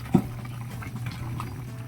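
A pot of papaitan, a Filipino bitter stew, bubbles and simmers softly, with small liquid pops and a low steady hum beneath.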